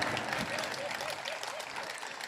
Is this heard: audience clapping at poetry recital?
yes